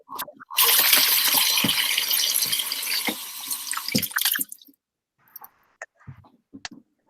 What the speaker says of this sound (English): So I've got some really nice vine tomatoes, which I'm washing.